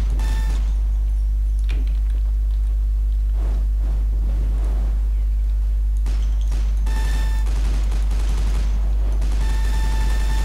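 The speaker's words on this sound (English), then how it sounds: "He's shooting at me." Gunfire in the multiplayer shooter game Loadout comes as loud, rapid bursts of shots, with several dense volleys and brief pauses between them.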